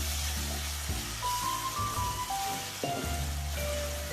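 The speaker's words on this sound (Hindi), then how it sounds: "इसको मैं अच्छे से ज़रा इसमें भून लूँगी।" Two tablespoons of ginger garlic paste fry in hot oil in a steady, dense sizzle for a fish curry, close and continuous. Soft clanks of a spoon come through underneath, and no one speaks.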